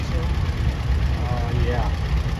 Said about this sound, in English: This is Stephen Brady, 1956 John Deere 50.